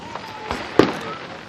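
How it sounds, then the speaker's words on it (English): Fireworks at a fireworks show go off in a few quick booming bursts, one sharp loud crack standing out, heard from a moderate distance. "this is a little short video to show you guys these fireworks"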